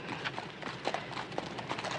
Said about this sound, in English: get your horse to manage a livelier gait